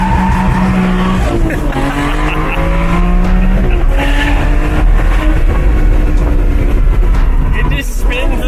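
A Ferrari accelerating hard with its tires spinning, engine loud and close, a rising engine note steps up quickly through the short gears under continuous road noise and tire squeal, with voices talking over it.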